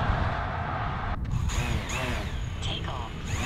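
A person's voice imitates a drone's buzzing whine with a wavering, sliding pitch, set against a loud low rumble of wind or vehicle noise outdoors during a 4x4 trail trip.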